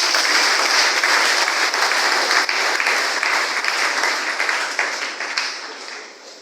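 A church congregation applauds loudly during a Catholic Mass on the fourth Sunday of Advent, a steady wash of many hands clapping that holds for several seconds, then gradually thins and fades toward the end.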